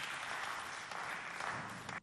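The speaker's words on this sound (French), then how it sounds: "On l'applaudit bien fort, s'il vous plaît" Crowd applause at a youth event representing the Bienheureux Isidore Bakanja parish in Chad, a steady, dense wash of clapping that fills the whole stretch and cuts off abruptly at the end.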